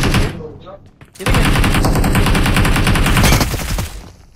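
Loud, rapid automatic gunfire from the mobile battle royale game BGMI, a dense sustained burst after a brief quieter moment, with a short lull near the end.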